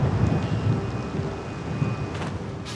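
A spring blizzard on the open Gobi steppe in Mongolia roars as a continuous, heavy rumble of gusting wind buffeting the microphone, with a few sharper gusts near the end.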